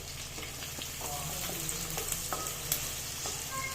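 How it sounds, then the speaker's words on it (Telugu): Onions frying in a pan for a mutton curry, a steady close sizzle with scattered spatula scrapes and clicks, no voices. "ఉల్లిగడ్డలు రంగొచ్చే వరకు వేపుకోవాలి."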